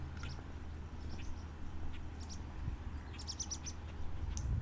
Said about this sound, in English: I think those were chimney swifts, but I'm not for sure.